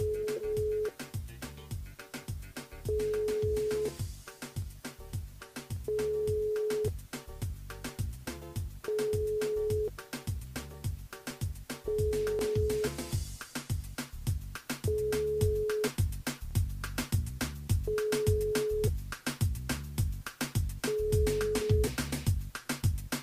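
A telephone ringing out unanswered on a call placed live during a radio phone-in game, with regular repeating ring tones spaced evenly apart over a steady bed of background music, no voice answering.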